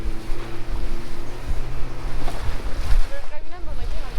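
A water taxi motors along the coast near Puerto Vallarta, its steady engine drone mixed with rushing water, wind buffeting the microphone and a low hum running throughout.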